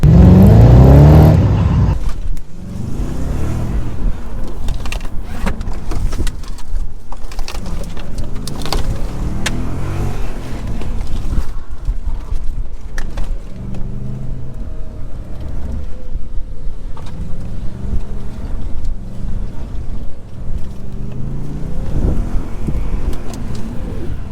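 An Audi S4 engine revs and accelerates hard during a drift attempt at a Japanese car show, with a loud continuous roar that rises and falls across the run.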